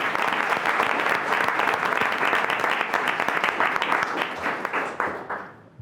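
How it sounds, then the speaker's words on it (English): Attendees at a college board of trustees meeting giving a sustained round of applause, dense and even clapping from a room of people that tapers off in the final second. "we really need to give him not only a round of applause, but a huge thank you"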